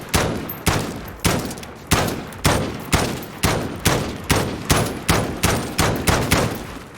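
Rapid rhythmic gunfire from a weapon in Call of Duty: Modern Warfare, about a dozen loud close shots evenly spaced roughly half a second apart, each with a sharp attack and short decay, with no talking.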